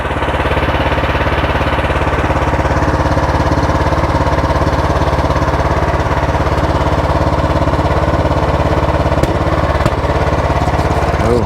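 A Craftsman small engine running loud and steady close by while splitting firewood, a constant rough mechanical drone with no talk over it.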